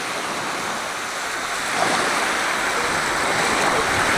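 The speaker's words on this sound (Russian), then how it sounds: "Волна идет." Sea waves wash onto a sandy dune beach at Anapa, a continuous broad surf hiss that swells louder about halfway through, mixed with some wind buffeting the microphone.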